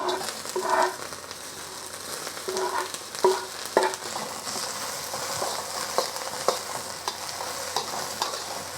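Garlic and peppers frying in avocado oil in a hot pan, with a steady sizzle broken by scraping stir strokes and clacks near the start, then continuing to crackle evenly.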